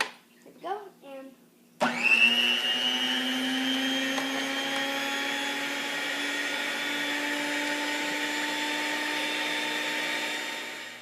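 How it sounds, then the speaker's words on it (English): An electric stand mixer switching on and running steadily while mixing egg and flour pasta dough, a loud continuous motor whine holding the same pitch for many seconds after brief talk beforehand. "Now I'm going to turn my mixer on, 1, and I'm going to let it mix till it's like a dough feeling."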